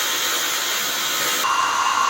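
A Dyson Supersonic hairdryer runs with a steady, loud broadband whoosh and a high whine, shifting to a slightly different setting partway through, with no voices.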